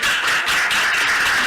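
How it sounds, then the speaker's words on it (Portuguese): Audience applause for a woman named Lídia at a spiritual lecture, a dense, steady wash of many hands clapping that holds evenly for about a second and a half with no voices. "Uma salva de palmas para Lídia"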